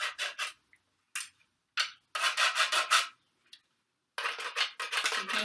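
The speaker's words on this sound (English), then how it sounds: "And then I've got a grater, and that makes great sounds." A handheld kitchen grater scraped as a percussion instrument: several short rasping strokes in separate bursts, with pauses between, heard up close and alone with no talk.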